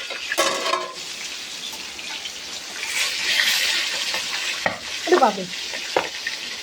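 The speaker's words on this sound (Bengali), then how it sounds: "আওয়াজ দেখতে পাচ্ছেন প্রচুর ফোটে, প্রচুর ভয় লাগে" Boal fish curry (jhol) bubbles and sizzles hard in a pan on a gas flame, a dense hiss with sharp spattering pops and stirring scrapes, close and loud, with a brief voice near the end.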